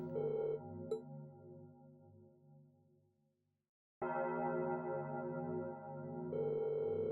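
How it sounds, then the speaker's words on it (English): A bell rings late at night in The Legend of Heroes: Trails of Cold Steel, its sustained resonant tones fading to near silence before a loud renewed peal takes over, with no talking. "Why are they ringing the bell this late?"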